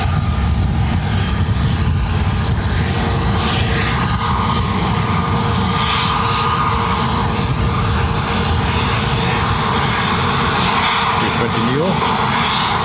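Airbus A320neo jet engines at Lanzarote Airport, a sustained loud roar with a steady whine running through it, heard close and continuous for the whole stretch, with voices talking over it.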